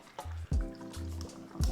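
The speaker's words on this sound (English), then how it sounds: "I already have ice in the glass, so I'm just going to pour from the shaker." Citron and tonic cocktail poured from a shaker into a glass already holding ice, giving short liquid splashing pours in a few bursts, close and fairly quiet, with no talk.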